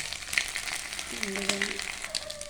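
An egg fries in a hot pan for an egg tarka, giving a continuous close sizzle and crackle with a brief tonal scrape partway through.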